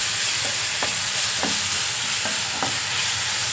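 Tomato fries in oil in a tempering pan, giving a continuous bright sizzle with a few faint scrapes of a stirring spoon and no talking.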